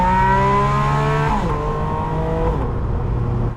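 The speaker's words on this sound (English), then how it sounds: "Loud exhaust is turned on," A Porsche 718 Spyder RS in PDK Sport with loud exhaust accelerates hard, its engine note climbing steadily, dropping at a quick upshift, then pulling again, loud and close.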